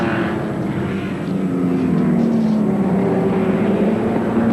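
Group N touring car racing at Oran Park in 1988: a loud, close engine drone under load, with pitch sliding gradually downward as the car passes and pulls away, no voices.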